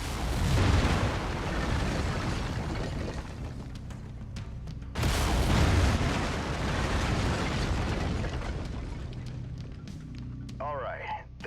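Mech lasers fire in a video game as two loud, sustained bursts of crackling, roaring energy, each starting abruptly and trailing off over several seconds, with faint electronic chirps near the end.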